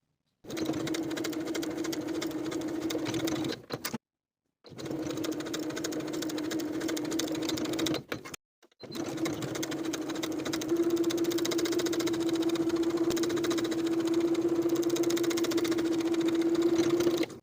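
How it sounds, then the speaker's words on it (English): Sewing machine top stitching along the folded front edge of a denim jacket bodice, a steady motor hum and rapid needle clatter in long runs broken by two brief stops, close and even, with no one talking. "I'm also going to top stitch from top to bottom with a 1/4 inch seam allowance"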